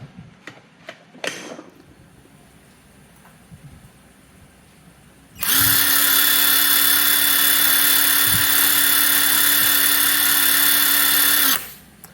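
A cordless impact wrench spins freely during an RPM test. After some quiet handling noises, it starts with a loud, steady motor whine that holds for about six seconds and then cuts off.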